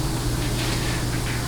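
Compressed air hisses steadily while blowing a piston out of a 700R4 automatic transmission during teardown, a continuous broadband rush with no pauses.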